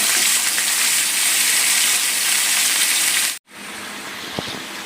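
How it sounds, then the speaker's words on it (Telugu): Marinated chicken fries with oil, onions and curry leaves for a Hyderabadi-style curry, a loud continuous sizzle that cuts out briefly before resuming, with a faint ladle knock near the end. "ఈ మ్యారినేట్ చేసుకున్న చికెన్ దాంట్లో వేసాక అంతా ఆయిల్, ఆనియన్ అండ్ మనం వేసుకున్న కరివేపాకు ఇదంతా చికెన్ మిక్స్ అయ్యేలాగా పూర్తిగా గరిటెతో తిప్పుకోవాలి."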